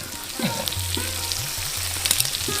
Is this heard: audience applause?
no